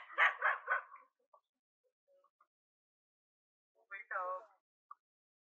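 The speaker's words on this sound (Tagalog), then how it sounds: "Nakita nyo yung aso na yan, papalapit na sa amin." A dog gives a few sharp barks up close, then falls quiet before a short whimpering yelp and one last faint yip.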